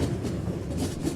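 A passenger train in Germany's Black Forest region rolls along the rails near Freiburg, giving a steady rumbling clatter with rhythmic wheel thumps, close and fairly loud, with no talking.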